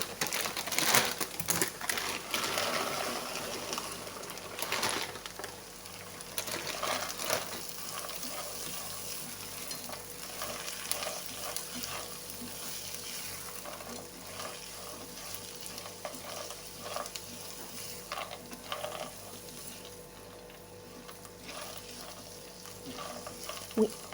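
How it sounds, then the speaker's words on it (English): Frozen mixed vegetables fry and get stirred in a cooking pot, a steady hiss with scraping and clattering stirring strokes close by throughout, no talking. "we are going to add our mixed vegetables. I'm using frozen vegetables."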